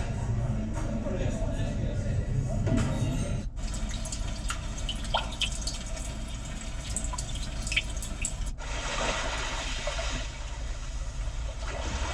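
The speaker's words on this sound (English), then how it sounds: "So as you're enjoying the sounds of your calm ocean waves, your lonely forest, or perhaps enjoying the plate rattling of an open-air cafe," Calm ocean-wave nature sounds play through the media system of a 2021 Kia Sorento SX Prestige X-Line, a soft continuous wash of water with dripping, splashy detail, broken by two abrupt cuts, as a voice talks over it.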